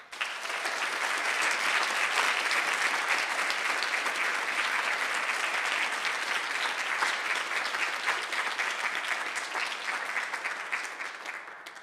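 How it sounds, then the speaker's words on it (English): Sustained, dense audience applause at a Friday morning creative talk event in New York, loud and even for about twelve seconds before easing slightly at the end. "Please join me in giving a rockstar round of applause to welcome Pablo Delcan."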